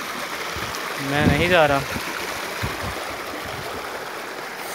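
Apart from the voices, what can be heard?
waterfall and stream flowing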